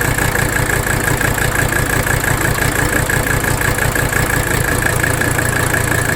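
A 1985 Mercedes 300D diesel engine idles loudly and unevenly up close, with a rough, pulsing rumble and steady mechanical hum.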